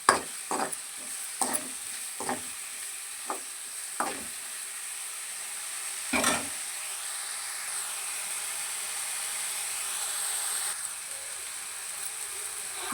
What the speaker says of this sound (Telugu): ఉల్లిపాయలు బాగా వేగాలంటే దోరగా లైట్గా మనం సాల్ట్ యాడ్ చేసుకోవాలి.